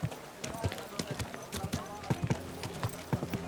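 A horse's hooves clip-clop at a brisk, uneven pace on a road in the medieval game Kingdom Come: Deliverance II, mixed with game voices and ambient sounds.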